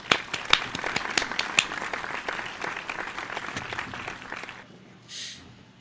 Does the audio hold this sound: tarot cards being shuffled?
no